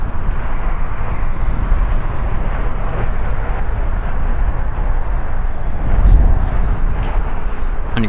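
A JetBlue Airways Airbus A320 jet arriving at LAX after a flight from Charleston, a steady broad engine roar with wind rumble that swells briefly near the end, with no voices over it.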